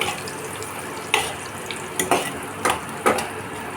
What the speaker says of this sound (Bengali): এখানে আমার পেঁয়াজটা বেশ লাল লাল হয়ে ভাজা হয়ে গেছে